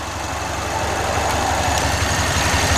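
Car engine in a junkyard cranked over and running, a steady idling rumble with slight knocking vibration, close and fairly loud throughout with no talking.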